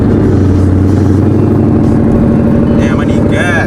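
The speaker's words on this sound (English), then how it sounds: "we're about to start up the car" A wrecked Ford Mustang with a shifted rear end and bent axle runs after a cold start, its loud, close engine rumbling steadily at idle, with brief squeaky chirps near the end.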